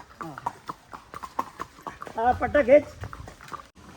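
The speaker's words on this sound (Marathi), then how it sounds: "घोडे घेऊन आले इथे" Horses' hooves clip-clop on a path at Matheran hill station, a quick rhythmic run of close, fairly loud hoofbeats that swells midway, heard among people talking.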